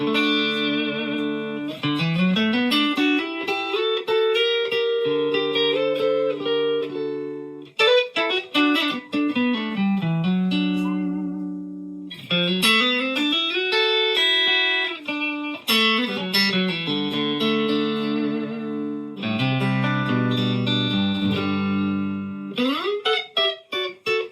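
Clean electric guitar on the neck pickup through a Fender Deluxe amp plays sustained chords and melodic runs, warm and round, continuous with brief pauses between phrases.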